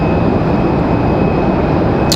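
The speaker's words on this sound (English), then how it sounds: "Delta 1407 coming in from Detroit" Delta airliner arriving from Detroit, Michigan at Raleigh-Durham International Airport, a loud steady broadband roar of engines filling the whole short stretch.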